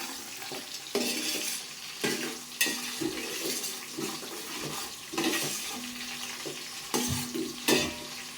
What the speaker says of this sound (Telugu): ఆనియన్స్ ఏంటంటే బాగా గోల్డెన్ షేప్ వచ్చేదాకా కాల్ చేసుకోండి అనమాట